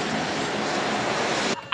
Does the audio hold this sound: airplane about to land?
yes